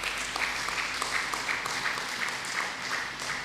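A church congregation applauds steadily to acclaim the Lord as a reverend rises, dense even clapping with a low hum of voices beneath.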